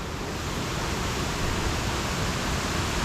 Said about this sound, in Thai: ตรงเนี้ยเล็ก ๆ เป็นน้ำตก